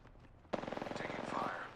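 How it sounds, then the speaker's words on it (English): Automatic gunfire rings out in the Apex Legends video game, a sudden rapid string of shots following a quieter stretch, with the rounds rattling off in an even, fast rhythm. "Taking fire."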